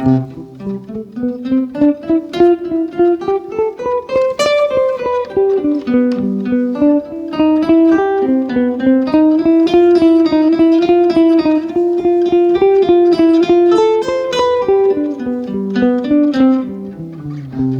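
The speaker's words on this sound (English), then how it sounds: "GEtudes are basically straight 8th note lines that outline the changes" A single melodic instrument plays a continuous stream of even, legato straight eighth notes outlining chord changes, winding up and down in a steady flowing line with no pauses, loud and close.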